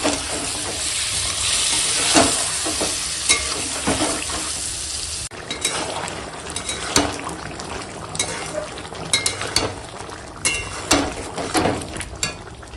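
Meat being stir-fried in a pan with small splashes of water added, a steady loud sizzle with scraping stirs and clinks of a spatula throughout, alone without talk.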